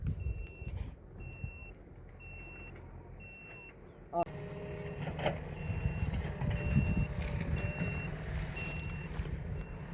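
A JCB backhoe loader runs at a groundwater survey site in Thimmarajapuram, Thoothukudi, its steady high reversing beeps repeating over engine rumble that grows louder midway, with distant voices.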